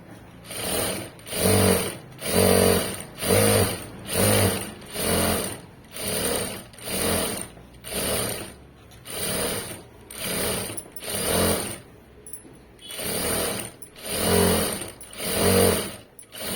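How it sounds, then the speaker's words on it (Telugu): A sewing machine stitches a folded edge of cloth for piping, running in steady, evenly spaced bursts of rapid mechanical chatter, close and loud, with brief pauses between runs. "ఇప్పుడు ఒక సైడ్ ఫోల్డింగ్ చేసి కుట్టేసుకుందాం."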